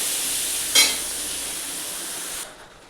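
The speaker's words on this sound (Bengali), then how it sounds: "মশলা দিয়ে আলুটা ভালো করে কষে নেবো।" Potatoes fry with spices in a pan under a steady, close sizzle, broken by a brief louder spitting burst near the start, before the hiss drops off sharply toward the end.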